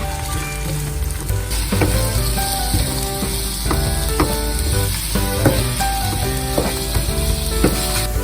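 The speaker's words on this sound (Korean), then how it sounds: "떡이 튀겨지듯이 해야 되기 때문에 기름에서 잘 익을 수 있도록 너무 뒤적거리지 않는 게 좋아요" Tteokbokki rice cakes fry in oil over high heat in a well-coated pan, a loud, steady, close sizzle with occasional light clinks and taps from stirring, no talking.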